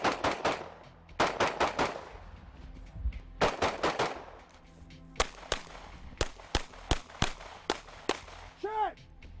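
Carbine gunfire rings out during tactical training at a target, with rapid bursts of sharp shots early on and then single, evenly spaced cracks, loud and echoing outdoors.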